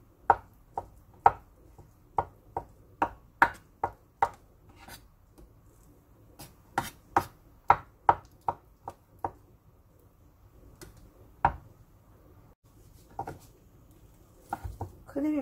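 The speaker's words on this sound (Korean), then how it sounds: "잘게 이렇게 다져주세요" A knife finely chops boiled egg whites for potato salad on a cutting board: a quick, close series of crisp taps in uneven runs, with a short pause midway before the chopping resumes.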